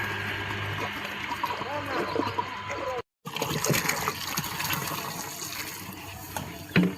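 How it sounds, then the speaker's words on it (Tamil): Water pours and splashes into a large vessel while vegetable biryani is cooked in bulk for thousands of people, a steady rushing stream with a brief break, voices talking underneath. "பாலாஜி தண்ணி எவ்வளோ அளவு பார்த்தியா?"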